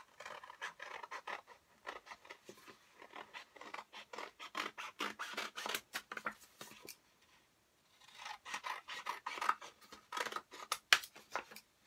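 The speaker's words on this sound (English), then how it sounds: "what I'm going to do next is cut that shape out" Scissors snip through paper to cut out a shape, a close run of quick crisp cuts in bursts, with a short pause before the cutting resumes.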